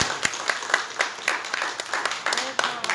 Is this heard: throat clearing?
no